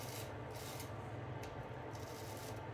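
A Filarmonica straight razor shaving over lathered skin makes a steady, close, soft rasping scrape that runs without pause, with faint brighter strokes now and then.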